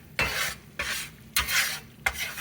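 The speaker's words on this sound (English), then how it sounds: "You gotta keep this roux stirring when you're making roux." A spoon scrapes through a roux in a pot for sauce piquante: four distinct stirring strokes with brief pauses between them, close and fairly quiet.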